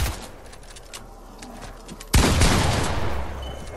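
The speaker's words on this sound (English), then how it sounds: "Just keep shooting him" Gunfire from a shooter video game erupts in a sudden loud burst of rapid shots partway through, after a quieter stretch of game ambience, with no talk.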